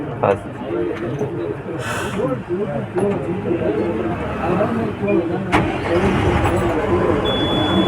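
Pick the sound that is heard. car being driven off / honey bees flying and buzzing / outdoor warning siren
car being driven off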